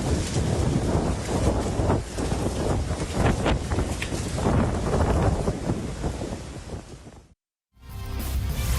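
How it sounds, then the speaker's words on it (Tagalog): Strong, roaring typhoon wind with rain buffets the microphone continuously in the Philippines, heavy low rumble and gusty hiss, cutting out briefly near the end before resuming. "malakas na hangin na may kasamang ulan ang naranasan dahil sa bagyong Quiapo"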